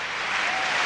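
Stadium crowd at the London 2012 Olympics, during a men's triple jump final, giving a dense, continuous roar of applause, loud and evenly spread with no gaps.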